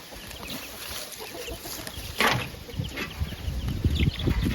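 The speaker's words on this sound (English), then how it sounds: "So I'm sure y'all could hear the chickens and the ducks in that video." Laying hens in a backyard flock clucking and calling close by, irregular short bursts with one louder squawk, over a faint steady background hiss.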